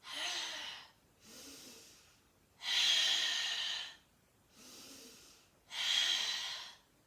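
During an evening stretch-and-strength session, slow deep breathing alternates long drawn-in breaths with full exhales, five close breaths in an even rhythm with silent pauses between.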